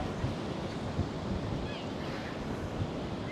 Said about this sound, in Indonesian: Anginnya kencang sekali teman-teman.